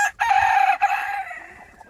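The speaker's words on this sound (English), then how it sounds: "When he crows so hard he almost goes over backwards." A little rooster lets out one loud, close crow that rises sharply and trails off over about two seconds, with no talking.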